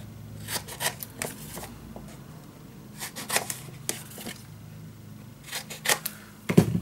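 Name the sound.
scissors cutting paper corners for scrapbook mini album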